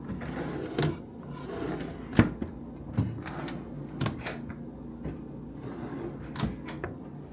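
Hotel room drawers at a DoubleTree in Crystal City, Arlington, are pulled open and pushed shut, giving several soft wooden knocks and sliding bumps spaced irregularly over quiet room tone.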